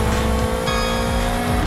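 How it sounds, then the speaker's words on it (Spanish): Black sports car driving a night city track in the Crazy Car Stunt racing game, a steady loud engine drone with a gear shift midway and faint tyre noise, no voices. "Es un auto deportivo de color negro conduciéndolo acá en esta pista nocturna"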